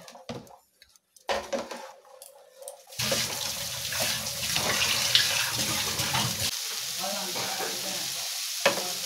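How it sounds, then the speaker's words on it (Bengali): Boiled chickpeas tipped into a hot pan with masala, a quiet clatter and handling at first, then a steady close sizzle and bubbling stir that runs on to the end, with no talking. "ছোলাগুলো দিয়ে দেবো, সেদ্ধ করা ছোলাগুলো দিয়ে দেবো।"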